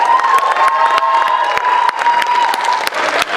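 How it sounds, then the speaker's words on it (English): An audience at a spoken word poetry showcase applauds and cheers loudly, with dense clapping, whoops and shouts over a sustained crowd roar, close and continuous throughout. "Another round of applause."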